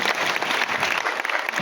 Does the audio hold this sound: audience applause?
yes